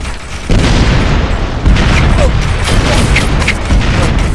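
Artillery barrage in the military shooter Operation Flashpoint: Red River, with heavy rumbling booms that swell and overlap into a continuous loud roar, punctuated by sharper blasts and distant crackles.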